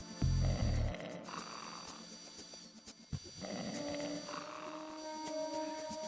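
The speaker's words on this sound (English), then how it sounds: "Please enjoy this lovely snoring guard ASMR." A sleeping guard in Metal Gear Solid 2 lets out low, slow snores that rise and fall quietly over a soft game-ambience hum.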